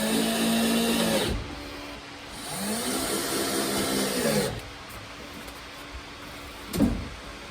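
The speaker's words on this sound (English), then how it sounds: "let's go ahead and get these drilled in" Power drill driving screws to fix hinges to a wall, two sustained whirring bursts with a pause between, then a quieter stretch ending in a sharp knock.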